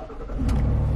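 A car engine revs and accelerates while reversing up to a horse trailer on a farm, a steady close mid-pitched drone with a rising surge partway through and no talk.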